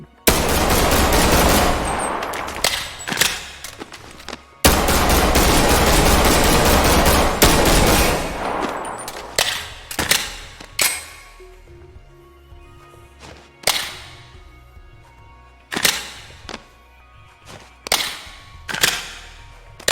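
Gunshots from the M9 pistol in the VR game Bonelab: loud, sharp cracks, first in dense rapid bursts, then spaced single shots with short echoing tails.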